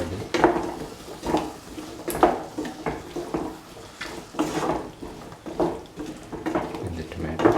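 A spoon stirs a taro and tomato stew in a pot, making rhythmic scraping and clinking strokes roughly every second, close up and moderately loud.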